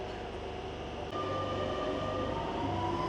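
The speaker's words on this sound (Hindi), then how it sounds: "और ये जो अब आ रही है ये न्यू स्टाइल की मेट्रो है" A new-style Barcelona metro train pulls into Ciutadella Vila Olímpica station, with a loud, steady rumble of wheels and motors under a constant mechanical hum and a faint rising whine.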